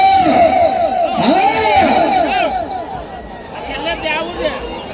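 A crowd shouts and cheers together at a rural competition event, loud and continuous with overlapping rising and falling voices.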